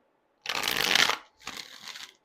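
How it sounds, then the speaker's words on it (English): A deck of tarot cards is shuffled in two quick riffling bursts, the first longer and louder, the second shorter after a brief pause, crisp and close with silence around them. "One more shuffle."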